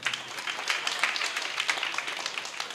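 A church congregation applauds at the close of a Lenten mass, a brisk, continuous patter of many hands clapping at even strength with no talk over it.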